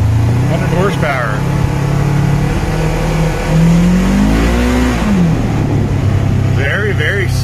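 The 100-horsepower engine of a 2021 Polaris RZR Trail S UTV revs up and pulls, pitch rising then falling back to a steady drone, loud and close with voices faintly over it.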